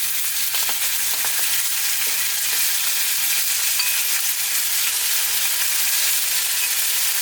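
Marinade spooned over pork ribs sizzling in a pan, a constant loud, close hiss and crackle of frying with faint scrapes, no voices.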